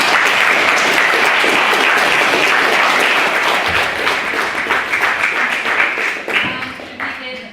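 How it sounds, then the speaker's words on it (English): Debate-hall audience applause after a maiden speech, a dense, loud wash of many hands clapping together that holds steady and then thins into scattered, uneven claps toward the end. "We did a second round of applause to what was a very good maiden speech."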